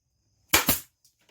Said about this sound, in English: I am on my second row of staples in the staple gun